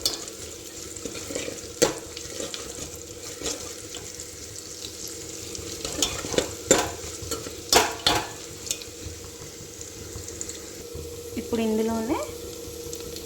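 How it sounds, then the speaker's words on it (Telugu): Chana dal and urad dal frying in oil for a palak pesarapappu tempering, stirred in a pan: steady soft sizzle with scraping and clinking of the spoon against the pot, and a brief spoken line in Telugu. "ఈ శనగపప్పు, మినపప్పు అనేవి చాలా మంచి టేస్ట్ని ఇస్తుందండి ఇందులో."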